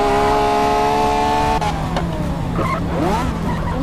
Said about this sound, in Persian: ماشین اسپورت